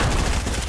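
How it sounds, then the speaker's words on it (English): SMG fire in Fortnite, a loud, close, rapid string of shots rattling without pause through a brief burst. "Fire enough bullets, they're bound to go down."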